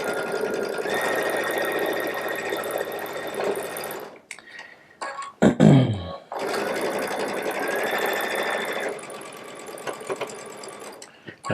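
Baby Lock Solaris sewing machine fitted with a quarter-inch piecing foot, stitching fabric pieces in two bursts of steady mechanical whirring separated by a short pause with brief handling noise, and a voice talking over the stitching.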